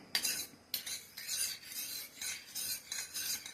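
A spoon stirs milk into a curd mixture in a bowl, giving rhythmic scraping strokes about every half second, close and fairly faint, with no voices.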